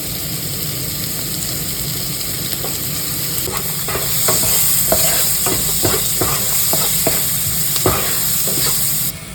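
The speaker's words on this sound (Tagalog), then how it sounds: "Let's saute sibuyas." Onions sautéing in a pan for a sauce, a steady loud sizzle with a series of sharp stirring scrapes and clicks in the middle and end, close up with no talking.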